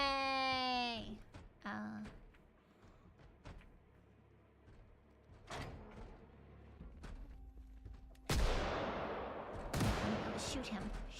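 Gunfire in Project Zomboid: scattered sharp shots crack at intervals, with two louder blasts near the end, mixed with footsteps and voices talking over the action.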